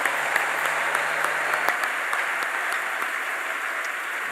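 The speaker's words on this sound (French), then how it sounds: "une bonne main d'acclamation au Seigneur" A church congregation applauds the Lord in steady, dense clapping that stays even and fairly loud throughout, with no voices standing out.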